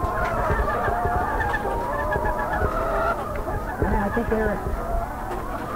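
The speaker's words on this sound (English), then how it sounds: "Sometimes a chicken makes a lot of noise when it lays an egg." Chickens cluck and squawk in a noisy, agitated flock around a laying hen, with goose-like honks mixed in, the sound steady and fairly close while people talk over it throughout.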